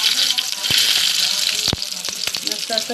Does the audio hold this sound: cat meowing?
no